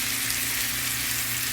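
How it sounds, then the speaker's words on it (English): Hamburger patties and onions sautéing in a pan: a loud, steady, close sizzle and crackle throughout the brief moment, with no talking. "Just sauteing it down, and I'm gonna add my gravy to it."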